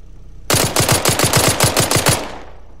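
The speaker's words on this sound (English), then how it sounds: "they're shooting at me" Rapid machine gun fire from an Arma firefight: a burst of about ten evenly spaced loud, close shots over two seconds, ending in a ringing tail that fades out.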